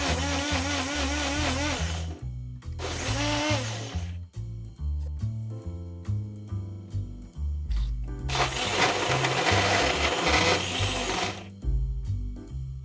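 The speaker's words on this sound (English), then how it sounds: "So here I'm grinding my kale, garlic, and 1½ cup of water." A blender grinding kale, garlic and water whirs in several short bursts, loud grinding pulses separated by pauses, with low background music underneath.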